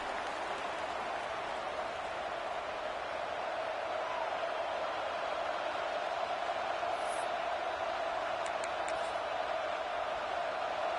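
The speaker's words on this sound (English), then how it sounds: "This crowd ready to make its presence known." Steady roar of a large stadium crowd at an American football game around the opening kickoff, a dense continuous wash of many voices and cheering holding at an even level throughout.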